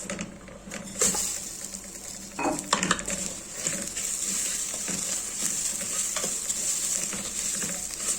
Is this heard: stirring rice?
yes